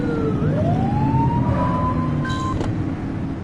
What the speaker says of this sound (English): Get on their tail and hit the siren.